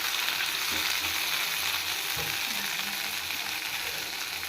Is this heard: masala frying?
yes